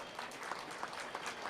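A live audience claps steadily at a Tamil motivational speech event, a dense, even wash of many hands throughout with no voices.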